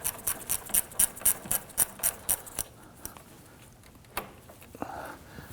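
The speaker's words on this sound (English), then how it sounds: "I'm going to go ahead and loosen this lower radiator hose clamp." Ratchet wrench with a 7 mm socket loosening the lower radiator hose clamp on a 2001-2009 Volvo S60 2.5L five-cylinder, about ten quick, close clicks in a regular rhythm, then a pause and a couple of scattered metallic taps.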